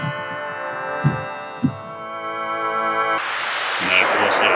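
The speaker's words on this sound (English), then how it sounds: "Square waves." A square-wave oscillator on the Bandy VST3 software synth sounds a buzzy, sustained tone with a couple of note changes while a voice speaks briefly, then a broad hiss of noise takes over.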